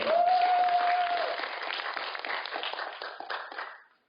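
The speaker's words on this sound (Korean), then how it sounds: "뜨거운 박수로, 환영해 주시기 바랍니다." Audience applause welcoming the secretary general at a Democratic Party event for Vietnam War veterans, dense clapping with a steady held tone at the start, fading out near the end.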